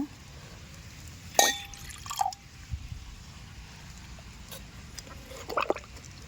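A few separate drips of water fall from a banana tree close by, sparse and irregular, with quiet outdoor background in between.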